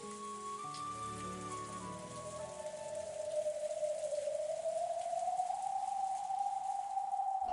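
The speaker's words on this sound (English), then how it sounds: "the cold rain still beating down on him" Rain sound effect from the Umineko visual novel, a steady patter of rain on a surface at moderate level, first mixed with fading musical tones, then continuing under a long sustained whining tone.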